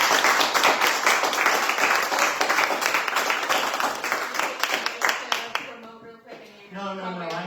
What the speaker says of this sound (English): I would love to just offer another round of applause.